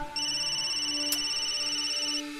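A telephone rings with a continuous electronic tone lasting about two seconds, clear and fairly close, a short click breaking in partway, with no voices.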